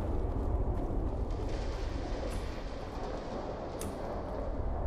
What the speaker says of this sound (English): those are my missiles that I dropped before